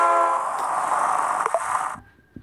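A loud, sustained electronic train horn from the Crossy Road video game blares steadily for about two seconds before cutting off abruptly, with no talking over it.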